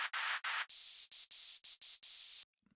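Bursts of harsh white noise hiss in a choppy, gated rhythm, cutting on and off in short hits before stopping abruptly.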